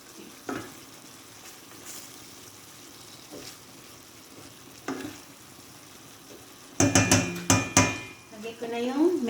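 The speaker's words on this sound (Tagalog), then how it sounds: "Ginigisa ko lang siya mabuti." Liver for adobo sautés in a pan with a low, steady sizzle under scattered utensil scrapes, then a cluster of sharp metallic clanks against the pan near the end, with a voice speaking briefly.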